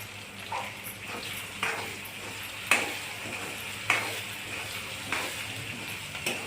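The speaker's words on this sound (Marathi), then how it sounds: "सगळं एकत्र छान परतून घेणे" Peas and urad dal being stirred and sautéed together in a pan for tomato semolina upma, giving a steady sizzle broken by a few sharp spoon scrapes and taps against the pan, with no voices.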